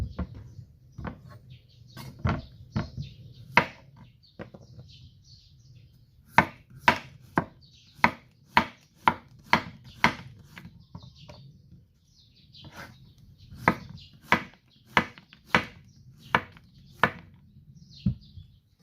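A kitchen knife chops chili peppers, garlic and chives on a cutting board in sharp, separate strikes, sometimes in quick runs, close and clear against a quiet room.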